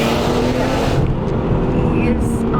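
A 350HP Lotus Evora S accelerates hard out of a corner, its engine a loud, dense roar heard from inside the cabin for a couple of seconds.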